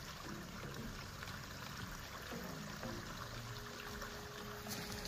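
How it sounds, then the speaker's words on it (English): Creek water flows steadily along a hilly bushland fire trail at Loftus, making a continuous soft rush and trickle that stays even and fairly faint throughout. "yeah, there's part of the creek there."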